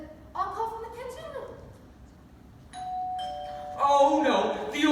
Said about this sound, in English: She wouldn't ring her own doorbell.